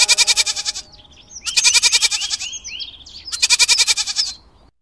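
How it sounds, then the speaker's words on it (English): A goat bleats loudly three times in a row, each call a wavering nasal cry with short pauses between, and faint bird chirps sound in the gaps. "G for goat."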